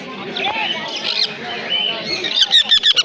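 Young sun conure parrots at the Naihati bird market near Kolkata, giving shrill squawks and chirps close by, with a burst of rapid repeated calls near the end and people talking underneath.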